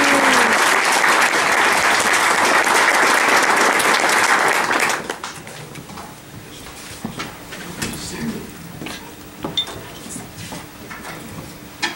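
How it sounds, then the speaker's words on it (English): A concert audience at a spring school concert breaks into a loud burst of applause that stops abruptly after about five seconds, followed by quieter room noise with scattered knocks and shuffles. "Please give them in advance a massive round of applause"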